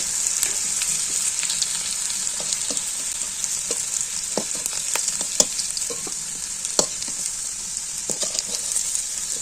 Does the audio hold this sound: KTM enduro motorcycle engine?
no